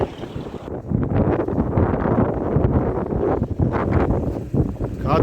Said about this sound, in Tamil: காற்று பயங்கரமாக அடியுது.